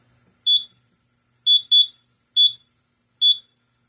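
Shrill high-pitched beeps from a Simplex fire alarm system sounding five times at uneven intervals, loud and close, with silence between.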